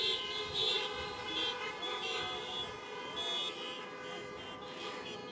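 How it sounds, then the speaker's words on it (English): Several car horns honk together at an outdoor drive-up Match Day 2021 ceremony, sustained overlapping tones blaring continuously, moderately distant, with a faint siren-like wail among them. "Go ahead, honk for them."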